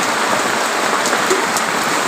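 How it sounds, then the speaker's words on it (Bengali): Rain falling steadily outdoors, a loud dense hiss of drops on surfaces that stays constant throughout with no voices. "প্রথমে তোমরা দেখো কি বৃষ্টি আসছে বৃষ্টি পড়ছে"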